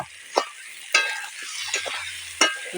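Chili powder, turmeric and salt sautéing in a hot pan for a snakehead fish and snake gourd curry, a continuous sizzle broken by several sharp scraping strokes of the spatula.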